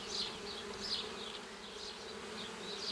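Honeybees drone on a hive frame in a steady, close buzz, with soft rising and falling whines of individual bees and no talk.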